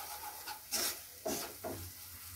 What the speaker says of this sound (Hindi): अब अच्छे से इस मसाले को हम भूनने देंगे